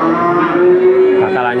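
A cow lets out a loud, close, sustained moo at a cattle market, one steady low tonal call lasting the whole moment.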